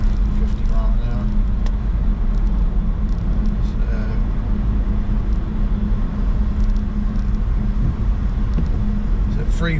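A BMW i3s electric car cruises on the M4 motorway at about 50 mph, giving a steady loud rumble of road and tire noise heard from inside the cabin.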